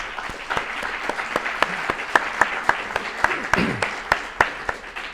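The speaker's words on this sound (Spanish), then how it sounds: "Os pido un fuerte aplauso para él y comenzamos." An audience at a book talk applauds the guest author, sparse claps with a few loud distinct hand claps standing out, while a voice speaks faintly underneath.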